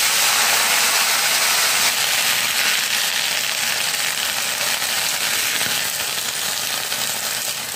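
Fenugreek leaves with garlic and green chillies sautéing in hot oil, a steady dense sizzle and hiss that stays loud and even throughout with no talking.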